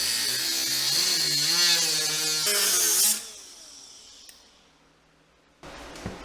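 A power tool whines loudly for about three seconds while cutting stubborn old fasteners off a golf cart body, its pitch wavering under load before it winds down and stops, followed by quiet and a short mechanical clatter.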